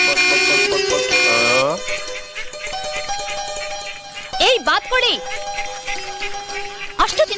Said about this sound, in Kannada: ಹಾರ್ನ್ ಹೊಡಿತಾ ಇದ್ದೀನಿ